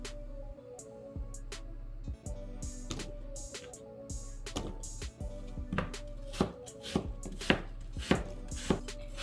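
A knife cuts apples for apple pie on a board in a quiet kitchen, with sharp, uneven chops that speed into a quicker rhythm toward the end.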